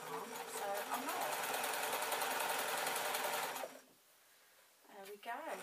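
A sewing machine stitches french seams on an infinity scarf, running in a loud steady whir for several seconds before stopping, then starting again briefly.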